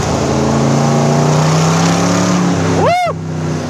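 A marina blue 1967 Chevrolet Corvette L71 with four-speed transmission runs loud and close, its steady engine drone climbing slightly before a sharp sweeping rise near the end as it accelerates hard.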